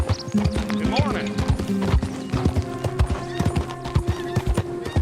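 A horse's hooves clip-clop in a brisk, uneven rhythm close by, with a sharp whinny early on, while voices talk over the hoofbeats.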